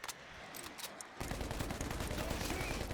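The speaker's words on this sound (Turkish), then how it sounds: "İçeride makinalıya sıkıyorum ben" Rapid machine-gun fire in the zombie shooter World War Z, with a dense continuous burst of shots that starts abruptly after a quieter opening and carries on loud to the end.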